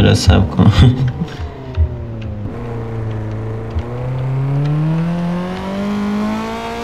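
Car engine in Need for Speed: Most Wanted revving up and holding a rising, whining drone, with a gear change partway through, loud and close, preceded by brief bursts of other sounds.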